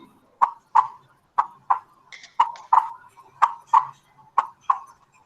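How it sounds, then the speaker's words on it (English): Heartbeat sound played back in a Scratch anatomy project: a clear, regular series of paired soft thumps, close and fairly loud, with no voices over it. "This is the sound of a heartbeat."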